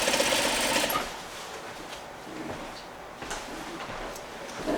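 A sewing machine stitches a slip cover for a Parsons chair close to the piping cord, a loud rapid whir that runs briefly at first, then continues in a steadier, quieter stretch with small pauses.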